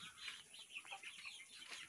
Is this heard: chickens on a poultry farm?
yes